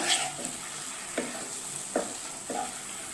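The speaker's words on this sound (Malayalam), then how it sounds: "ഇനി ഇതിലേക്ക് കുറച്ച് വിനീഗർ ചേർത്ത് കൊടുക്കാം. ഇളക്കി കൊടുക്കുക." A curry being stirred in a pan after vinegar has been added, with a spoon scraping in several distinct strokes over a soft background sizzle, close and moderately quiet.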